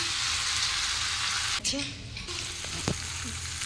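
Rohu fish cooking in a pan, a steady loud sizzle that briefly drops away, then returns more softly with a few light clatters.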